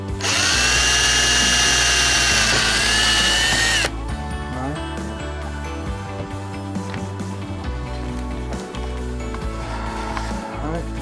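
A power drill fitted with a 9/64 drill bit bores a hole in the center of a part for a homemade bird play stand, a loud steady whine for several seconds, then ratcheting and clicking mechanical noise.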